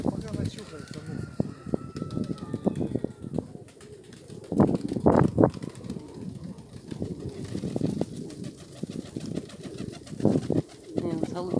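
Nikolaev pigeons coo steadily at a dovecote in damp, windless weather, their soft repeated calls mixed with occasional wing flutters while someone talks nearby.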